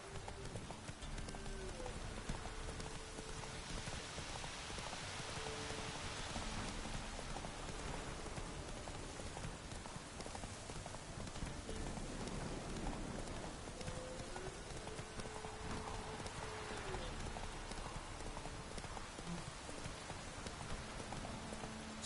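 Roach, a horse in The Witcher 3, trots through steady rain, its hooves clip-clopping at an even pace under a continuous hiss of rainfall and drops striking the ground.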